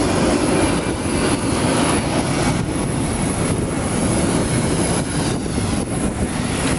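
A Meridiana airliner takes off at an airport in Sardinia, giving a loud, steady jet roar that fills the whole stretch without pause or speech.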